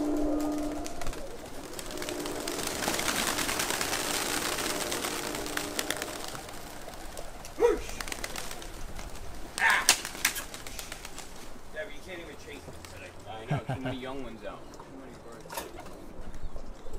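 Canadian tippler pigeons take off from a New Jersey loft, with a long rush of flapping wings early on, then scattered wingbeats, coos and knocks as the flock thins out.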